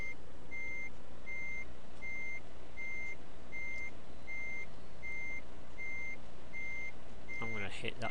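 A truck reversing in Euro Truck Simulator 2, with an evenly spaced series of about a dozen loud, high reversing beeps over a constant engine rumble and a brief burst of noise at the end.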